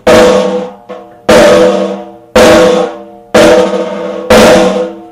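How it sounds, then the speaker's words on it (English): Five sharp snare drum strokes, played as stick bounces, land about a second apart, each ringing out with a buzzing decay, and a soft extra tap follows the first. "I'm going to demonstrate on the actual snare drum itself so you can really hear it."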